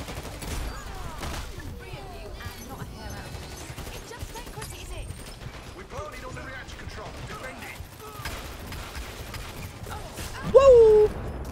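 A video game turret fires repeated faint, rapid shots across a busy battle soundscape, with scattered game effects, a brief louder tone near the end, and a voice talking over it.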